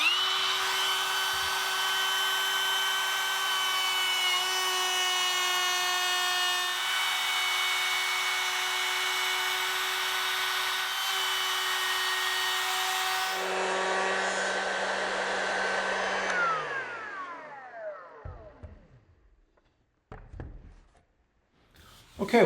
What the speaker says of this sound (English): So now I'll flip the board over and we'll make another pass